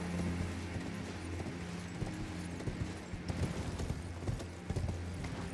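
Horse hooves clip-clopping steadily while riding through the mountaintops in Elden Ring, a rapid even gait over a dense game soundscape with no talk.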